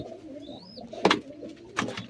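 Soft, low pigeon coos with a couple of fluttery bursts nearby as the pigeons are fed grain, brief and close with faint background hiss.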